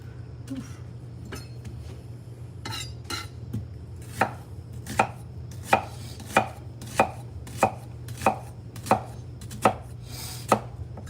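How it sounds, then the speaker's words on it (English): A knife chops onion and bell peppers on a board in a home kitchen, the blade striking in a steady run of sharp, evenly spaced knocks that speed up into a regular rhythm over a low constant hum, with no talk. "And I'm chopping everything up before we get the roux going."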